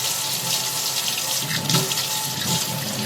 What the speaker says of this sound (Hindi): टंकी का पानी इतना गर्म है ना